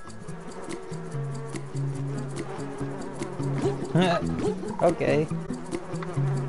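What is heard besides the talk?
bees buzzing in video game Donut County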